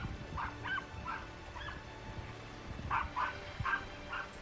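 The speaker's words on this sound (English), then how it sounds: "I hear a dog yap" A small yappy dog barks in quick, faint bursts of sharp yips at a distance, two clusters of several yaps separated by a pause, over a low background hum.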